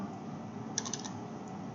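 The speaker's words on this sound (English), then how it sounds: "so I will do that by typing" Computer keyboard typing, a few quick faint key clicks in the middle of the clip over a low steady room hum.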